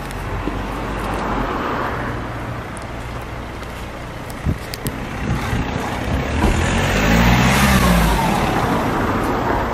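Lamborghini LP560-4 fitted with an Armytrix exhaust revving inside a tunnel, a loud booming engine roar that rises and falls with reverberant wash and a climbing rev sweep near the end.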